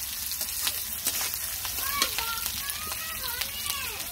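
Green chilies and black gram dal fry in hot oil, a steady close crackling sizzle with scattered pops and light stirring, continuous and fairly loud under a voice talking.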